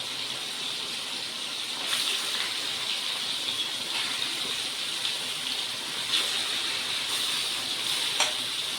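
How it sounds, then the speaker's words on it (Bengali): Marinated chicken sizzles and crackles steadily as it is lightly fried in a hot pan, a constant frying hiss with a few louder spits. "ম্যারিনেশন করা চিকেনগুলোকে হালকা একটু ভেজে নেব।"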